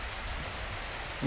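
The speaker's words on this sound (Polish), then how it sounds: "Deszczyk kojący." Gentle rain falls outdoors on a farm as a soft, even hiss of drops, steady and unbroken throughout.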